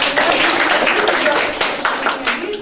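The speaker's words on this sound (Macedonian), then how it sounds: "Ако може да аплауз за втората група." A group gives a short burst of dense, lively clapping for the second group at a practical exam, the applause close and loud throughout.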